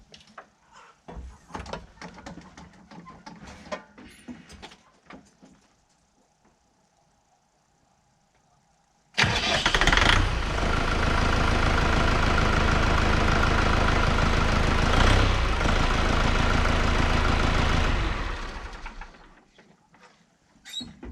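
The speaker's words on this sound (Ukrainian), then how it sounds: "заводимо трактора" A DT-5504K diesel tractor engine cranks and catches, then settles into a steady, loud idle for several seconds before shutting off.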